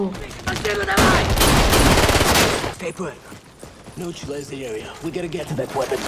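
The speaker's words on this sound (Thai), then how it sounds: "สัญญาณเริ่มการโจมตีเชฟเชนโกก็ถูกโดนยิงเป็นคนแรก" Gunfire from a battle scene in a futuristic military action movie, rapid bursts and fusillades dense at first then thinning into scattered shots, with voices speaking over the later part.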